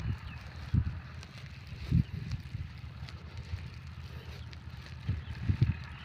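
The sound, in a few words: wind blowing over sandy river bank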